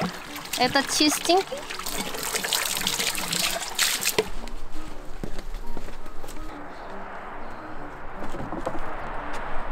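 Water runs and trickles while a container meant for storing Korean chili pepper paste is rinsed out, a close splashing flow under a woman's speech that thins out partway through.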